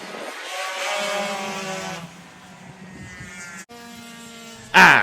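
Racing engines at the Assen circuit roar and whine through gear changes, one car sweeping past loudly before fading, then another engine note rising, ending in a sudden loud burst close by.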